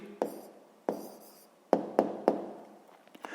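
A pen writes out a maths answer by hand on paper, giving soft close strokes with a few sharp taps scattered over a few seconds.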